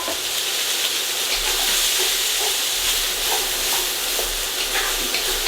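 Vegetables sizzling and hissing in a hot pan for chicken Thai peanut noodles, a steady loud frying crackle with brief stirring scrapes and no talking.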